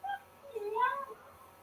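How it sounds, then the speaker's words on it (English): A dog whines softly in a thin, rising and falling tone, faint and brief, with a quiet room in the background. "somebody meowing? That's my dog."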